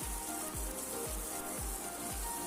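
Chopped onion frying in a little hot oil in a pan for brinjal ghonto: a steady broadband sizzle, close and fairly loud, with a regular low thumping about every half second running underneath.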